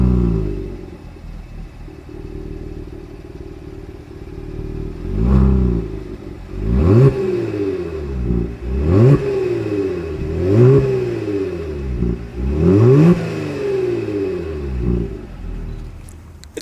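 A 2020 Genesis G70 with the 3.3-liter engine idles steadily from its exhaust, then gets blipped in a series of sharp rising revs spaced a couple of seconds apart, heard up close with no talking.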